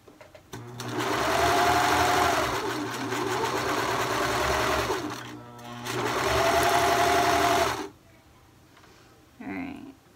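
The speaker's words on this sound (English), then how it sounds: "And then just sew these in place, easing the cut edges together." A sewing machine stitches a sleeve onto a knit sweater. The motor whirs steadily and close up in two long runs split by a short pause, then stops, leaving quiet handling noise.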